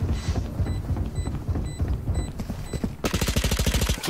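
Gunfire in the tactical shooter Valorant: rapid rhythmic shots punctuated by sharp high pings, then a dense burst of fast automatic fire near the end, close and loud.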